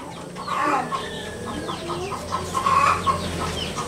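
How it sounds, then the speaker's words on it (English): A rooster at a house in Claveria, Misamis Oriental, Philippines, clucks close by in a run of short throaty calls and chatters, louder toward the end, with faint background birds and yard ambience. "What's up, rooster?"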